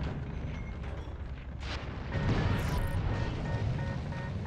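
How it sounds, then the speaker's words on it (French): Tank cannon shells exploding nearby in the World War II shooter Heroes & Generals, heavy booming blasts over a rumbling battlefield that swells louder halfway through, with no voices. "C'est un char qui me tire dessus"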